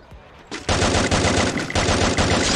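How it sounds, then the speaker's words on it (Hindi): Rapid automatic gunfire from another player in a Free Fire solo-versus-squad match, loud bursts starting after a brief lull and continuing densely to the end. "और भी कोई गोली चला रहा है यहां से"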